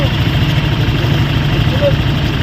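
A motorbike engine idles close by on a river adventure trip, giving a steady, even low rumble that holds without revving for the whole stretch.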